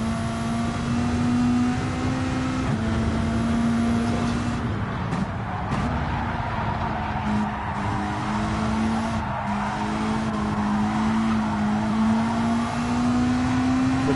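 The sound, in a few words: Supra race car engine in video game Gran Turismo 7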